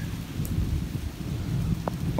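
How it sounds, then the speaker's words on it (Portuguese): A low rumble of thunder rolls beneath a steady wash of rain, with a few sharp drips close by. "Olha o trovão."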